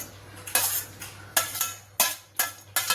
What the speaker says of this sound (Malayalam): കരിവേപ്പില ഒന്ന് മിക്സ് ചെയ്യാം